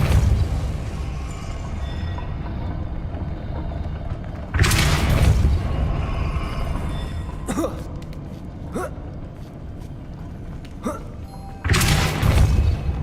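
Depulso spell effects in a Harry Potter video game, heavy booming blasts that hit three times at irregular intervals. Sharper cracks fall between them, with a low rumbling ambience underneath.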